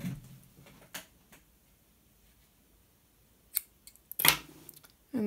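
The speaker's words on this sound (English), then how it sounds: "cut your yarn" Scissors snipping yarn while making simple newborn booties: a few crisp, isolated cuts spaced across several quiet seconds, close by and with no talking.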